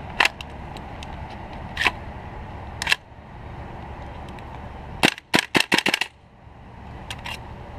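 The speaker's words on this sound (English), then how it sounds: "Put a mag in it, see if she fires." Shots from a rifle built on RA Tech forged receivers: a few sharp cracks spread out, then a quick burst of five or so close together, loud and near, with no talk.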